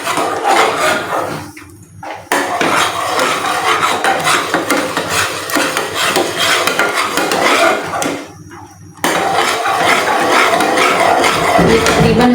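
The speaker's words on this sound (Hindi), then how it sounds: "इसलिए हमने चम्मच को अच्छी तरह से चलाना है।" A spoon stirring a homemade jelly mixture in a pot, steady scraping and rasping against the pot with two short pauses, close and continuous.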